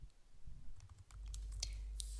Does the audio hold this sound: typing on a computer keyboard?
yes